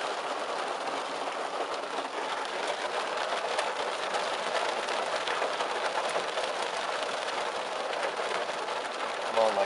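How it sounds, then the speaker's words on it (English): Heavy rain pours down steadily during a severe thunderstorm with pea-size hail, heard from inside a car as a dense, loud, unbroken hiss that lasts the whole time. "it's downpouring pretty hard"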